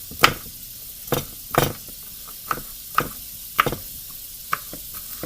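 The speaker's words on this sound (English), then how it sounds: "So what you want to do is cut your bell pepper in chunks." A knife chops a bell pepper into chunks on a cutting board, a series of sharp, irregular knocks close by, with no talking.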